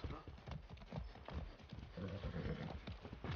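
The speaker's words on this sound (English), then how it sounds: "That's a good horse." A horse in Far Cry 6 gallops with a steady, rapid clip-clop of hooves, mixed with game ambience and a voice speaking over it.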